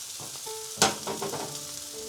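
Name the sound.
steak and onions sizzling in a pan with thyme and rosemary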